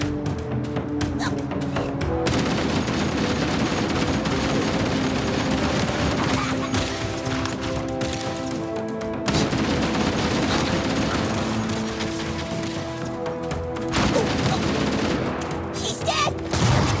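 Sustained gunfire from Covenant weapons in the Halo campaign, a dense continuous fusillade of rapid bursts and booms with a brief lull partway through, mixed with music and effects.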